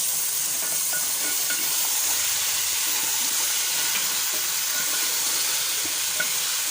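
Potatoes and carrots drop into frying masala in a pan, giving a steady, dense sizzle and hiss that runs close and unbroken throughout.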